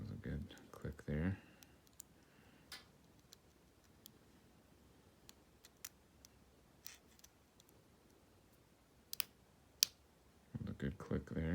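A lock pick working the pins of a Peterson Shrike-reviewed 1100 lock, giving sparse, faint, sharp clicks scattered through quiet stretches, with bursts of louder handling noise at the start and end.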